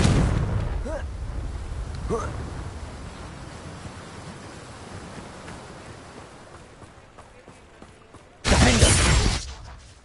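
A Confringo blasting spell goes off in Hogwarts Legacy, a loud, broad explosive burst near the end that follows earlier quieter combat noise and a voice calling out.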